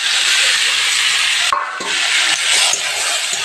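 Spices and chopped tomato frying in a pan while being stirred, a steady loud sizzle and hiss with a few soft scraping movements partway through.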